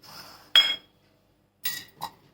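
Spoon scraping coarsely ground peanuts into a small bowl in a home kitchen: two short clinking scrapes of metal against the dish with a quiet pause between, close and alone.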